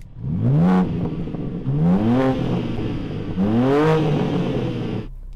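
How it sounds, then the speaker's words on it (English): Engine of a new BMW M4 revving hard three times in quick succession, each blip climbing sharply then falling back to a steady idle, loud and close with no talking. "Rev up the new M4"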